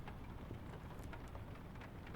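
Steady rain patters on a car, heard from inside as a dense, even wash of soft drumming with faint individual drops, low and continuous.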